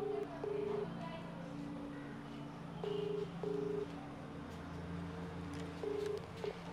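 A telephone call being dialed and ringing: a series of steady electronic ring or dial tones in short repeated bursts, fairly faint over a low background hum, with no talk in between.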